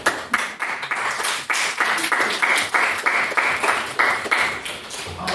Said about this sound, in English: I think on that round of applause